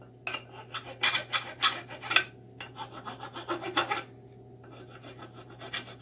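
A hand rasp files wood while chamfering the edges of an axe handle, a rhythmic series of rough scraping strokes, close and fairly loud, with a quieter pause near the end before more strokes resume.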